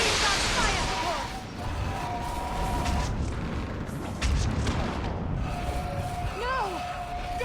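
Artillery fire support in Mass Effect 3 battle on Thessia: repeated distant booms and blasts over a continuous combat din, with shouted voices and radio chatter on top.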